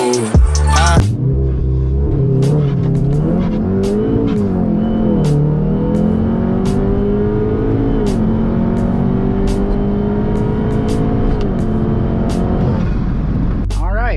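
A VW MK7 Golf R running E85 launches hard and accelerates, its loud engine note climbing through several gear shifts with sharp breaks between them, while a voice speaks briefly at the very start.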